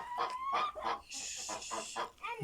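Chickens cluck in a rural yard, a run of short, close, moderately loud clucks in an uneven rhythm, with faint background noise.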